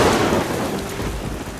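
Heavy rain pours steadily during a thunderstorm, with a broad low rumble of thunder beneath a dense, hissing wash that stays loud and continuous throughout.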